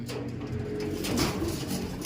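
A small pet bird coos softly in a loose series of calls, heard close against a constant noisy background.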